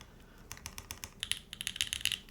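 Someone types on a Mode Tempo mechanical keyboard with a polycarbonate case and long pole switches, making quick, close, crisp clacks. The keystrokes come in irregular bursts that get denser and brighter toward the end.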